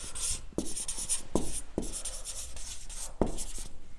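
Marker or chalk strokes writing numbers on a board, a steady run of scratchy squeaking strokes broken by sharp taps where each new digit starts, close and clear with no voices.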